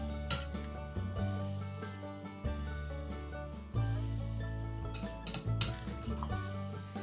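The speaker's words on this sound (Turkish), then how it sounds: "Sonra bunları güzelce karıştırıyorum." A spoon stirs cookie batter for apple cookies in a bowl with steady scraping and clinking against the sides, close and continuous, over a sustained background hum.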